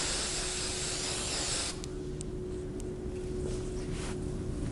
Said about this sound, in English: I'm just gonna give it a final spray.